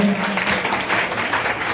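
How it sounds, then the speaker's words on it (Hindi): Applause from an audience at a ceremony for women completing training at Om Kala Kendra in Chhindwara, a dense, steady patter of clapping filling the short stretch at fairly loud level, with no talk over it. "एक तालियां तो ओम कला केंद्र के लिए भी बजनी चाहिए"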